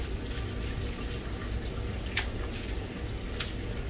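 Water running steadily while a dog is bathed in a grooming tub at a Petco, a continuous close hiss with a few brief splashes and no talk.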